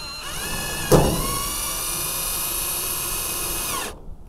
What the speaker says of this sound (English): I'm just gonna start drilling.